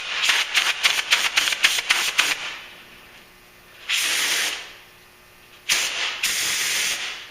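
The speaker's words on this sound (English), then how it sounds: "we're going to blow some compressed air with a rubber tip blowgun" A rubber-tipped blowgun fires compressed air through a small-engine snowblower carburetor, first as a quick series of short hissing bursts, then two longer sustained blasts separated by quiet gaps.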